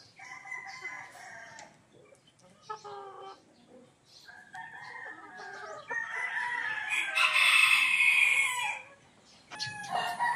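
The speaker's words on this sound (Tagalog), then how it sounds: "Yan kaila, marami pang manok dito." Roosters crow repeatedly and hens cluck at a game farm in Bauang, La Union, a busy overlapping chorus of fowl calls with loud crows building toward the end, no talk.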